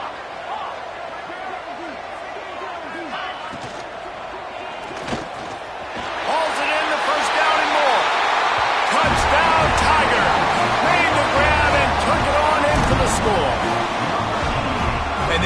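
A stadium crowd in a college football video game, Texas at Clemson, roars in a steady wash that swells louder partway through, with a commentator talking over it and a sharp thud near the middle.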